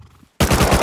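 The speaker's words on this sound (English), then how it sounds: "Turrets are fucking me up." Automated turret gunfire in a video game, a sudden loud burst of rapid shots cutting in after near silence and continuing to the end.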